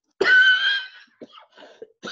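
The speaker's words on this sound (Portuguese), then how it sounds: "ainda estou apanhando um pouco com a tosse alérgica" An allergic cough: one strong, close cough followed by a few smaller throat sounds and short breaths, heard alone without speech.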